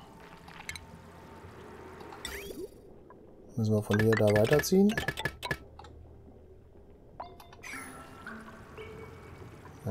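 Water runs through a pipe in the video game Oxygen Not Included with a soft, pouring gurgle that continues in the background while someone speaks German over it.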